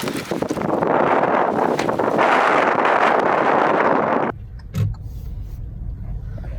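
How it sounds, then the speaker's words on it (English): Strong wind buffets the microphone outdoors in San Francisco, a loud continuous roar for about four seconds before it drops away abruptly to a quieter, hissing background with a brief thump. "So windy, the tree came down."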